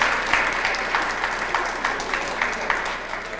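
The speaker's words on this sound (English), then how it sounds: "let's give a warm round of applause for the man himself, HABTE" Audience applause at a 1996 cultural talk, a steady crowd clapping at moderate distance with individual claps audible, sustained throughout.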